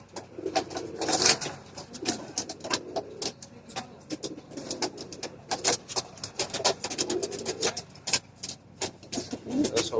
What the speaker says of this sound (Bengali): অনেক ভয় পাচ্ছে কবুতর এটা বেরোনোর জন্য পুরো পুরো পাগল হয়ে গেছে